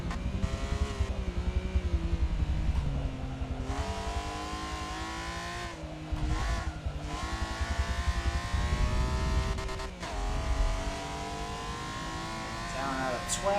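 A tuned race car in Forza Motorsport revs hard down a back straight, its engine note climbing through the gears with brief dips at shifts, while someone talks over it.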